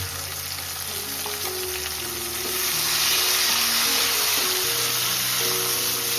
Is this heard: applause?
no